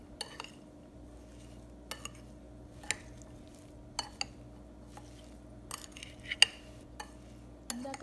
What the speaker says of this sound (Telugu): ఇప్పుడు దీన్ని అంతా మిక్స్ చేసుకోవాలి.